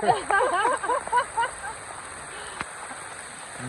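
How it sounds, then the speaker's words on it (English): Steady cold rain patters in the background on the Appalachian Trail's 100-Mile Wilderness while a voice talks over the first part, then the downpour continues alone. "the cold rain"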